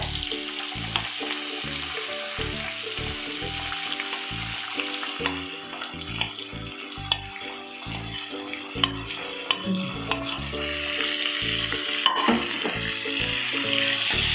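Salted mango and carrot pieces for a white pickle are sautéed in a pan, with a steady sizzle under repeated scraping and clinking strokes of a spoon against the metal.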